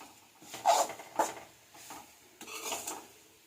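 Bitter gourd pieces are tossed with spice powder in a pan, giving a few scattered clinks and scrapes of utensil against metal in short uneven bursts, close by and with no voices.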